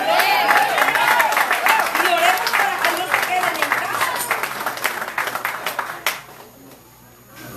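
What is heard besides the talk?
church congregation applause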